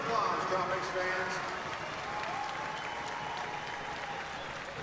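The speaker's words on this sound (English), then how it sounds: "Teachers, let's give them a round of applause, Tropics fans." Steady crowd applause fills an indoor arena during a Florida Tropics versus St Louis Ambush soccer game on Teacher Appreciation Night, a dense even clapping wash with faint voices mixed in throughout.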